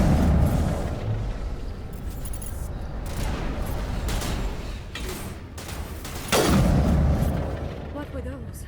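Heavy booming explosions and rolling artillery-like blasts from Mass Effect combat fill the scene, loud and continuous, with a sharp fresh detonation near the end and a faint voice mixed beneath.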